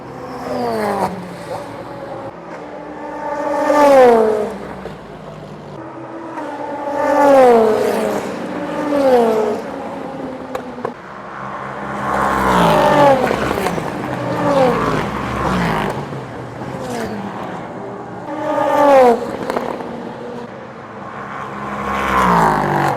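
Race cars in an endurance race at Le Castellet brake hard into the first corner at the end of the straight, loud engines dropping in pitch through downshifts as several cars pass in waves, close and continuous.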